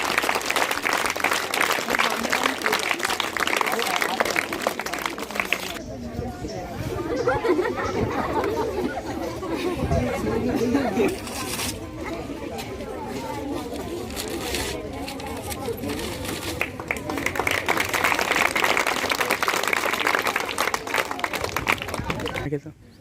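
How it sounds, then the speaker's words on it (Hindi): Applause at a school principal's farewell ceremony: a crowd claps loudly at the start, fades into chatter and murmuring voices in the middle, then swells into strong clapping again near the end. "जोरदार तालियां बजती रहे, शानदार।"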